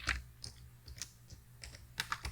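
Close, quiet clicks of fingers tapping on a computer keyboard, irregular keystrokes in small clusters, alone without talk.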